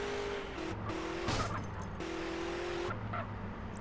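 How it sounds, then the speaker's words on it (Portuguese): Car skidding in the GTA MTA roleplay video game, a steady engine drone with tire squeals and scraping skids, loud and continuous, with no clear crash impact. "fui dar uma virada ali no carro, agora quebrei a porcaria do carro"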